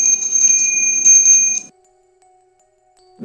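A bell ringing now and then in a quiet house at night, a sustained bright ringing tone with shimmering overtones for a second and a half, then stopping into near silence before a sudden low thump at the end.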